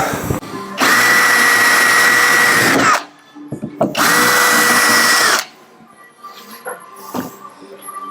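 A power drill with a 5mm bit drills out the rivets of a Land Rover Defender side window, whining loudly in two sustained bursts of about two seconds each, with clinks and handling noises in the quieter gaps.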